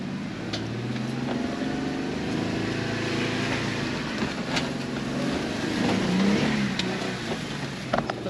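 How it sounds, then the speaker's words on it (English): A Jeep on twin E-lockers and 35-inch tyres churns along a tacky off-road trail, its engine droning and revving steadily with wheels spinning, heard close and continuous throughout. "Still got some wheel spin going."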